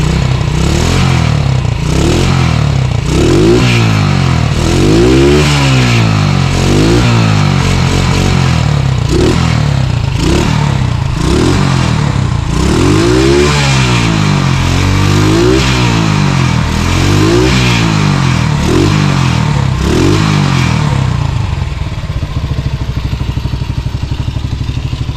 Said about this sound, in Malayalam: വണ്ടിയുടെ ഐഡ്ലിങ്ങിൻ്റെ ശബ്ദം.